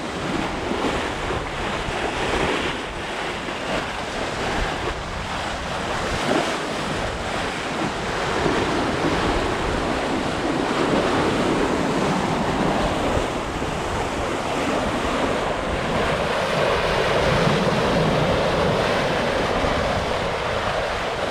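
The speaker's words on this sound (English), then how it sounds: "30 tons pushing through the water." Sea waves rush and wind roars around a 30-ton Hallberg-Rassy 54 sailboat under sail in the Bahamas, a loud, continuous wash of water and gusting wind noise with no talking.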